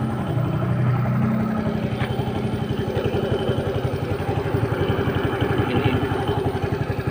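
A fuel-injected motorcycle engine with an O2 sensor manipulator revs and then holds at a fast, chattering idle, a rough, rapid pulsing beat close by with no voices.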